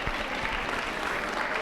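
Applause from a high school audience gathered for a guidance transition night, a dense steady wash of clapping hands filling the room, fairly faint and distant, with no voices rising above it.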